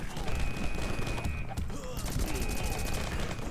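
Gunfire in the video game Rocketbirds: Hardboiled Chicken, rapid bursts of shots and booms in quick succession, loud and dense throughout, with a voice talking over part of it.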